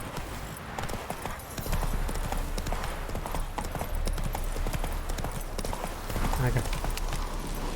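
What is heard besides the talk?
horse Roach hoofbeats in video game The Witcher 3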